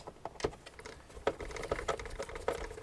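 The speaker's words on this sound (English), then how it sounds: "I'm just going to put 2 screws in." Two screws are driven into the panel of a Roborock robot vacuum, producing faint, quick ticking and clicking of the screwdriver in short bursts, close by and quiet.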